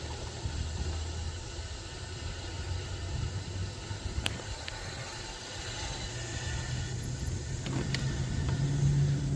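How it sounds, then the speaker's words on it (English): Road traffic passes near the parking lot of a rail trail, giving a steady, broad wash of car noise. Faint mechanical clicks sound now and then, and the rumble swells slightly as vehicles go by. "Watch traffic."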